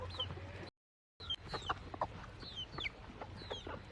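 Chickens cluck and a rooster calls among a free-ranging flock out in the rain, the chirpy clucks repeating close by over a steady wet background hiss, with a short dropout near the start.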